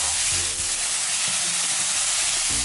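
Minced meat frying in a hot pan gives a loud, steady, close sizzle that runs without a break, with faint low clatter from stirring underneath.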